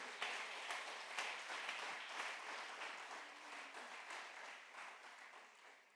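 A church congregation applauds and claps together, a steady, fairly distant wash of clapping that holds for several seconds and slowly fades.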